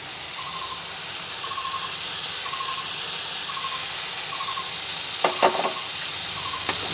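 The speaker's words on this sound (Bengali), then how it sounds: "সেই টক দইটা এর মধ্যে ঢেলে দেবো" Whisked yogurt poured into a pan of spice paste frying for a vegetarian potato and pointed gourd kalia, a steady close sizzle with a few sharp crackles and splashes near the end.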